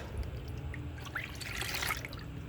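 Water poured off a gold panning pan while working paydirt, a faint trickling slosh and splash that swells toward the end, close by and without speech.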